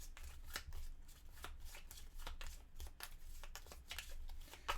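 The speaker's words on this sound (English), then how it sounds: "Take all the pickup and event cards, shuffle them together, form the deck A face down." Pickup and event cards for the Tiny Epic Zombies board game are shuffled together, a quiet series of rapid riffling flutters and soft taps repeating close by.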